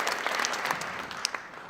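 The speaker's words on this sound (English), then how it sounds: "give a nice round of applause" An audience at the Sedona Film Festival breaks into applause. The clapping is full and continuous, with sharper individual claps standing out near the end, and no talking over it.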